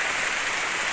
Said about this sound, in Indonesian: Jadi berhubung di sini masih hujan dan nggak reda-reda